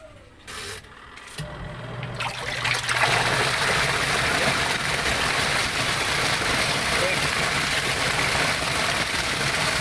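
A washing machine drum filled with water starts up and spins, building within a couple of seconds into a loud, steady churning whir with rushing water that holds to the end.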